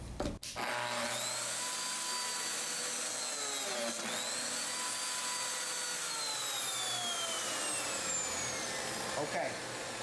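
A Lamello Zeta P2 joiner cuts into a 3/4 inch scrap of wood, its motor starting with a thump and then a sustained high whirring drone with shifting tone, close by.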